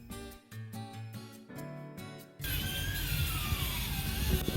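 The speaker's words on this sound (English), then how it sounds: "So remove the lower side 8mm damper motor screw." An 8mm screw being backed out of the damper motor on a 2011–2019 Ford Explorer heater box, with close mechanical clicks and ratcheting at first, then a louder, denser whirring grind from a power driver.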